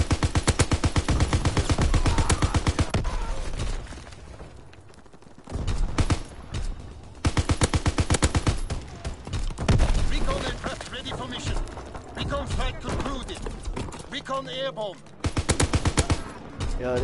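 Sustained light machine gun fire in Call of Duty, loud rapid automatic bursts in several long strings separated by short pauses, with game sounds between bursts.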